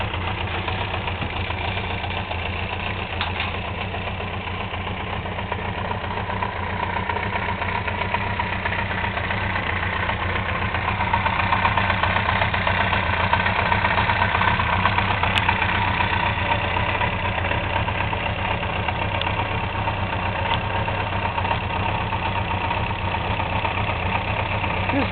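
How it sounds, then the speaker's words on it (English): A 1975 Honda CB400F motorcycle in nearly new condition idling low, a steady, even engine hum heard close and unbroken throughout. "Got a nice low idle."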